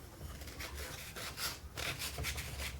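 Wooden edges being smoothed by hand to remove splinters and fuzzy spots, a soft rhythmic rubbing and rasping in repeated short strokes, close and quiet.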